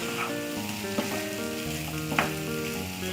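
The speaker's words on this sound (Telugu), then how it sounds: "ఇవంతా ఆయిల్లో బాగా ఉడికిపోవాలన్నమాట" Brinjal pieces frying in oil are stirred in a pan, giving a steady close sizzle with a few soft scraping knocks from the spoon.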